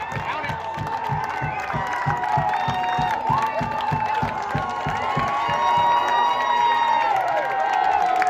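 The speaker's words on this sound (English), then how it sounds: "And again, you can hear this home crowd going wild." Home crowd at a boys' high school rugby state championship cheers loudly and steadily, the roar swelling toward the end, with rhythmic clapping or stamping underneath and scattered shouting voices.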